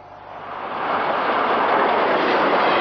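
A passing train roars steadily and grows louder, a broad rushing rumble with faint wheel noise, heard alone without speech, as an exhibition train runs through Australia during the 1988 bicentennial.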